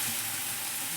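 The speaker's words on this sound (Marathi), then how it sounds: "ती भाजी हलवून घ्यायची चांगली, मिक्स करायची चांगली" Grated potato bhaji frying in a pan, heard as a close, steady hiss of sizzling oil that holds even throughout the short moment with no voices.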